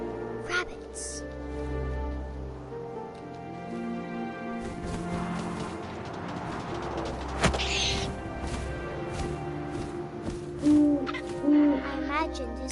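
Owl hoots, two short low calls near the end, sound over wind, music and storytelling narration.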